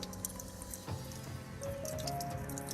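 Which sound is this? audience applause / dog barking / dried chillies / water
water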